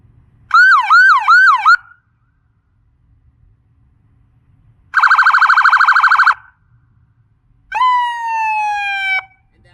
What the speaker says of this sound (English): This is called the yelp.